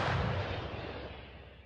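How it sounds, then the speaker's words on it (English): A 155 caliber German howitzer fires near Bakhmut in wartime: one huge deep boom already under way, rolling and slowly fading over a couple of seconds, close and loud with no voices. "maneuver this 155 caliber German howitzer to its firing position"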